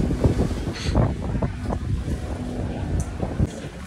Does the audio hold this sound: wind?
yes